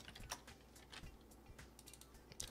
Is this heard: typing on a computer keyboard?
yes